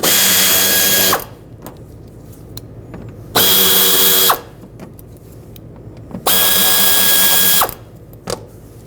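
A power driver whirs in three bursts of about a second each, backing out T20 screws from the bumper and inner fender liner of a 2013-2020 Nissan Pathfinder, with quieter clicks and handling noises between the bursts.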